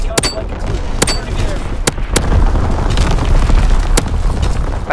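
Artillery strike explosions in Call of Duty WWII, a series of loud, sharp booming blasts hitting at irregular intervals over a dense, rumbling battlefield roar, with radio-style voice lines playing over them.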